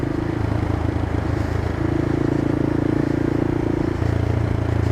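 A CCM Flat Tracker motorcycle cruising in fourth gear at about 40 mph, its engine holding a steady, close, loud droning hum with a slight shift in pitch partway through and no talking.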